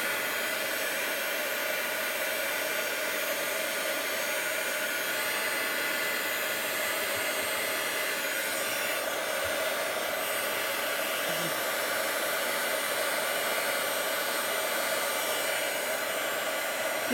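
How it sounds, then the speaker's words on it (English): A heat gun embosses powder on an art journal page, blowing as a loud, continuous, steady roar close by for the whole stretch, with no speech over it. "I'm just going to continue embossing this"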